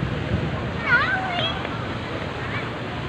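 Water splashing from a fountain inside a busy mall makes a steady broadband hiss, while people talk nearby.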